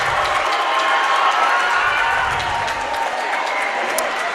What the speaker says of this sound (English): the Centralia faithful give the Tigers a big round of applause.